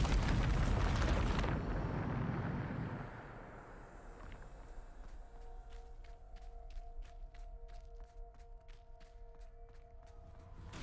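The Bombarda blast spell in Hogwarts Legacy: a loud, close explosive burst that rumbles and fades over a few seconds, followed by quieter ambience and light footsteps.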